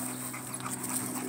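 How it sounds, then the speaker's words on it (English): A year-old Cane Corso puppy pants close by in quick, breathy, steady rhythm, with a faint whimpering tone over a constant hiss. "Here at King Corso, dog."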